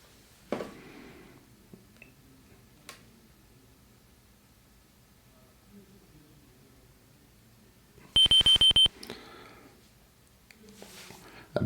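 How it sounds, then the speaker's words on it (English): A wristwatch in the 1987 MS-DOS game Space Quest II gives a quick burst of loud electronic beeps, about eight rapid pulses in a row, near the end of an otherwise quiet stretch that holds only a few faint clicks. "A beep emanates from your wristwatch."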